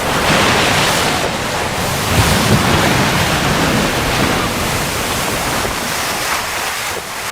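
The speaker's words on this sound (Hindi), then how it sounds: "ज्वार के दौरान तेज लहरों की वजह से हजारों अंडे जमीन से बाहर आ जाते हैं।" Strong ocean surf rolls and breaks steadily on an Odisha beach, a dense, continuous roar with wind buffeting the microphone and no voices.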